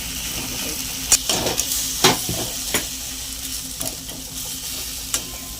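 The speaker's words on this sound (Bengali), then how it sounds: "এটা এবার ভালো করে কষবো, ভালো করে কষতে হবে" Taro flower is stir-fried in a pan, with a steady sizzle under scattered scraping clicks of a spatula stirring close by.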